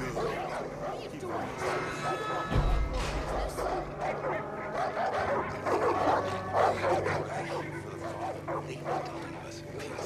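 A dog barking and whimpering in the video game Far Cry 5, repeated yips and whines mixed under a busy scene with people talking over it.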